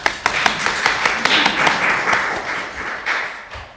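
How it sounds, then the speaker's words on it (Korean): A church congregation claps during a sermon, a quick patter of hands that swells briefly and then tapers off, with no talking. "박수 한번 해야 될까요?"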